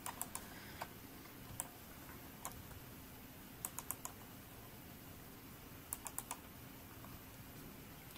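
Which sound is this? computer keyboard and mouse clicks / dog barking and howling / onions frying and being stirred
computer keyboard and mouse clicks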